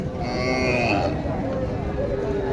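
A Sahiwal calf lows with a drawn-out, rising-and-falling moo, close and fairly loud over a busy outdoor cattle market background in Naogaon.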